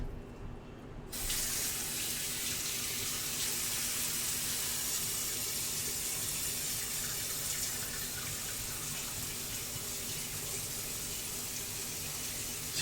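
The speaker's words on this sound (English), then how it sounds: "Let's replace this water." Tap water runs steadily into a kitchen sink to replace the soaking water around a still-frozen block of beef, a constant broadband rush that begins abruptly after a brief quiet moment and continues unbroken at even loudness.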